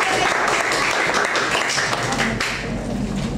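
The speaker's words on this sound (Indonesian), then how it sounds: "Tepuk tangan." Hands clap steadily through a classroom session, a dense, continuous patter of many palms at close range with no talking over it.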